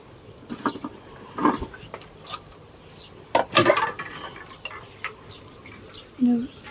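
A pot lid clanks onto a cooking pot of frog and sour bamboo shoot curry, with several separate metallic knocks and scrapes spread over a few seconds at close range.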